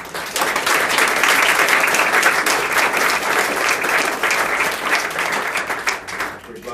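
A room full of people gives a sustained round of applause at an International Women's Day morning tea, steady dense clapping that holds for several seconds before tapering off, with no talk over it.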